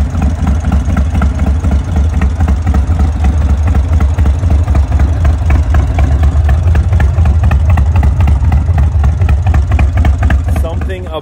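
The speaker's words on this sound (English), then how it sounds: "Here's a little clip of a cold start at the shop." A cammed Indian Thunderstroke 116 V-twin on a 2024 Indian Springfield fitted with a Toast 2-into-1 exhaust, cold-started in a shop, idles loudly and steadily with a deep, lumpy pulse throughout.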